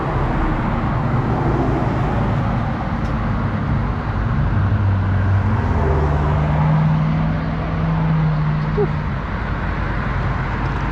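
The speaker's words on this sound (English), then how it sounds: "Got lots of cars coming out this way." Cars pass on a busy road near a pedestrian trail in Palm Harbor, Florida, forming a constant loud traffic rumble with tonal engine hums rising and falling, as heard from a bicycle amid heavy wind noise.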